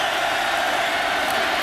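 Steady roar of a large Oklahoma Sooners home crowd at a college football game against BYU, a dense, continuous wash of distant voices with no breaks and no distinct single voices rising out of it.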